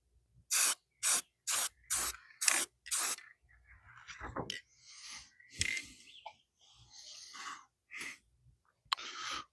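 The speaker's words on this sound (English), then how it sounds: "Just going to spray that." A spray can sprays paint onto a craft project in six short, evenly spaced bursts of hiss, followed by quieter, irregular spritzes and rustling, close to the microphone.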